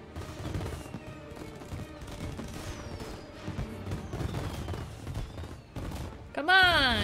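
Tommy gun bursts in the Mafia remake video game, repeated rattling gunfire and impacts at moderate level over several seconds, mixed with game noise and a brief tonal sound near the end, with talk over it.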